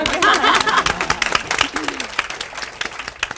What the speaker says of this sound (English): She gets a little round of applause